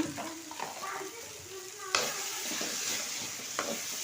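A tomato and chili mixture with home-ground chili powder fries in a pan, a low steady sizzle with occasional stirring scrapes and clacks of a spoon.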